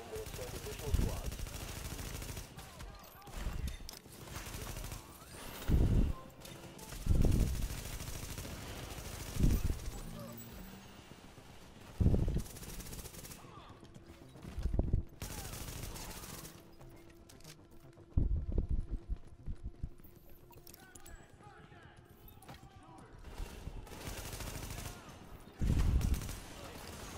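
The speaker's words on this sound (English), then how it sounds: "Reporting gunfire in the station above us." Gunfire in the video game The Division crackles in scattered bursts and single shots over a constant background of game ambience, with radio-style voices talking through parts of it.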